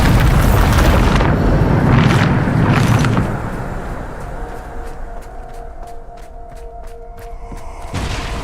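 A Bombarda explosion spell goes off in the Hogwarts Legacy video game, a loud booming blast with a rumbling roar that fades over a few seconds, followed by softer sparkling magical tones and a late whoosh.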